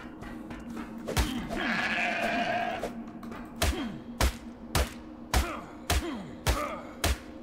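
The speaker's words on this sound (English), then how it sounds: "then we need some sheep" Sheep bleat in a game set in a cave world, a drawn-out wavering bleat near the start followed by a run of sharp thudding impacts spaced about half a second apart, fairly close and with no talk.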